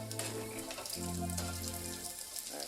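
Bacon frying in a pan sizzles and crackles steadily at close range, a continuous hiss with a low tonal hum running underneath and no talking.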